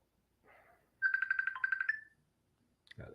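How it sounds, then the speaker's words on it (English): A mobile phone rings with an incoming call: a short electronic melodic ringtone phrase of quick repeated tones, heard alone, followed by a brief click. "People calling me. My phone acting crazy."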